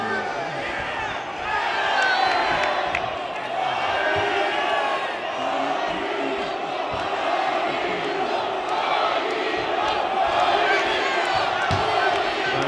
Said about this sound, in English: this crowd here in Mexico trying to get behind Goito